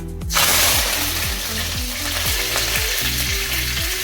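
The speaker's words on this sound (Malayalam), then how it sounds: "അതിലേക്ക് ഒരു സ്പൂൺ കടുക് കറിവേപ്പില ഇടാം" Mustard seeds and curry leaves hit hot oil for a chicken curry, bursting into a loud, steady sizzle with dense crackling and popping that carries on without a break, and nobody talks.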